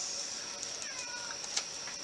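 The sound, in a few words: cat meowing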